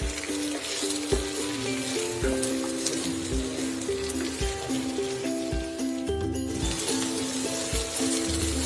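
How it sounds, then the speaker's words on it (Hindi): Fava beans and potatoes fry in a pan with garlic, ginger and onion, giving a steady sizzle broken by repeated scraping and stirring knocks from a utensil, close and continuous without speech. "2 मिनट तक हमने सब्जी को ऐसे ही लहसुन अदरक और प्याज के साथ फ्राई कर लिया है।"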